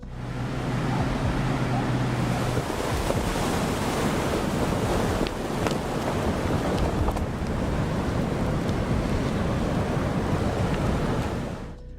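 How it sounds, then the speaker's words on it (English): A loud, continuous roaring rush of churning water from a flash flood debris flow after heavy rain in southern Utah, broad and turbulent, with occasional sharper knocks within the torrent. "This impressive flash flood debris flow is what resulted from all the rain."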